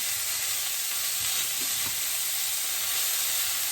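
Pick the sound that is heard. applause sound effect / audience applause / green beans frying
green beans frying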